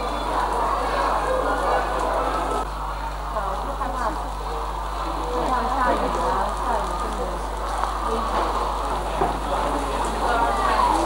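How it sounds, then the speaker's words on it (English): Rain falls on a playground in Leshan, China, a steady even patter of drops heard close throughout, with faint background voices and a low hum beneath it. "Down in the playground, still raining."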